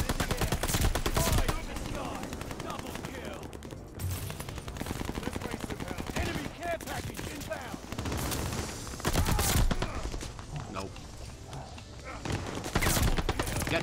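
Rapid bursts of Sten submachine gun fire in a Call of Duty Vanguard team deathmatch, loud, close and repeated in sharp volleys with short gaps, mixed with other in-game gunfire.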